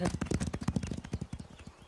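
Cartoon horses gallop past in a quick, rhythmic run of hoofbeats, close and steady, with voices talking over them.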